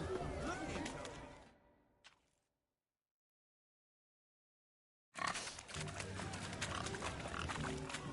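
Pigs oinking and squealing in The Witcher 3 video game, dense grunting bursts in the opening seconds, then a fade into full silence, before the rough, busy pig noise returns loudly near the end.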